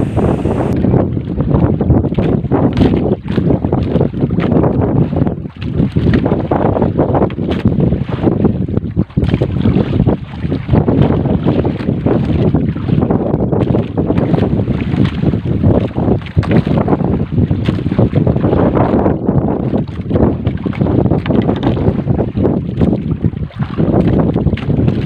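Strong amihan wind at sea roars and buffets the microphone continuously, with rushing water and waves beneath it, loud and unbroken throughout.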